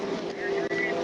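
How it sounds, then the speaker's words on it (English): A pack of motorcycles passing during a police chase, heard as a continuous close engine drone with a brief dip partway through, all within about a second. "I'm chasing these motorcycles coming up right here. There's a pack of motorcycles."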